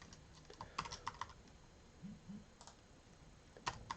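Sparse, quiet keystrokes on a computer keyboard as account details are entered, with irregular single clicks and short bursts spread across a few seconds.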